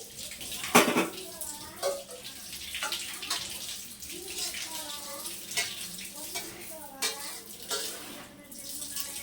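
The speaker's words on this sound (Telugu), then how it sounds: "వాటర్ మొత్తం ఇందులో వేసేసుకోవాలి." Water is poured into a pot of biryani masala, a close, continuous splashing gush heard beneath a person talking throughout.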